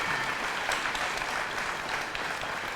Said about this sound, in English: how about a huge round of applause for Michelle and Evelyn?